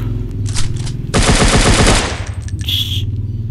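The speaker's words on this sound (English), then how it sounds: "Where is this man shooting?" A sustained burst of rapid automatic gunfire from a free offline mobile shooter game rattles loudly for about a second over a low game hum, followed by a brief higher-pitched tone.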